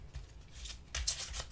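Tarot cards are shuffled for a card reading, making a brief, soft riffling and flicking rustle with a few sharper slaps of the cards.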